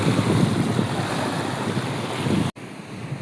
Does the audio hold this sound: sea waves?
yes